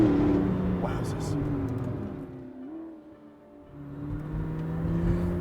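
A McLaren P1 hypercar driving on a track, engine note rising and falling as it accelerates, dipping briefly before surging again, heard from moderate distance with a whirring undertone.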